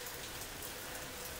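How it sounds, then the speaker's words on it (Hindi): Rain falling steadily in a summer downpour outside a house, a dense even hiss of drops on surfaces, faint and continuous with no voices. "और तो बारिश बहुत अच्छी हो रही है आज"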